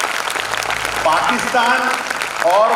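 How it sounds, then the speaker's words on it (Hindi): Audience applause at a school Independence Day live theatre show in Pakistan, a steady crowd clatter running the whole time while someone speaks over it. "शानदार एक बार ताली सबके लिए यार,"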